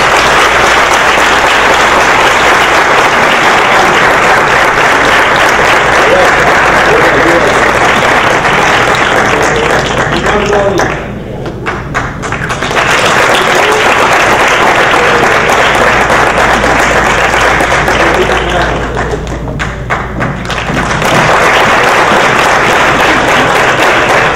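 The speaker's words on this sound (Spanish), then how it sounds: "quisiera que le dieran un aplauso a nuestros panelistas" Audience at a film contracts panel event applauding the panelists, a long, loud, dense round of clapping that dips briefly twice and then resumes at full strength, with some voices mixed in.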